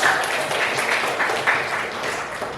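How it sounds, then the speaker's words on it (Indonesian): A room of people clapping together, a dense, steady patter of hands lasting a few seconds. "Tepuk tangan untuk Panjang."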